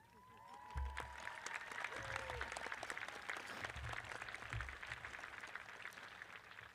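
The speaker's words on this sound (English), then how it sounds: "If that doesn't deserve a round of applause, I really don't know what does." Crowd applause at a 2022 graduation ceremony in Boonsboro. Sustained, even clapping from a large audience fills the whole stretch, with faint low rumbles and crowd murmur underneath.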